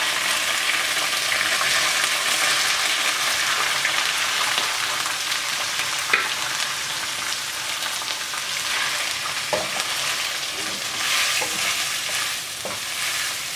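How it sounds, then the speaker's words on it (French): Shrimp sizzle steadily in a hot pan for a Pakistani shrimp curry, a continuous close crackle and hiss with occasional stirring clicks and no voices. "Une fois qu'ils sont légèrement dorés, les deux, vous ajoutez les crevettes."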